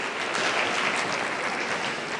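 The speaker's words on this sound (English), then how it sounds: "Give him a round of applause." An indoor audience at a showjumping roadshow applauds, with a steady, dense wash of clapping hands holding evenly throughout.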